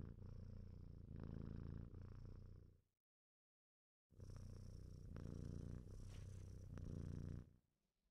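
A cat purrs steadily in two long, even stretches separated by a brief silence, close and soft, with no talk, heard in the League of Legends game client.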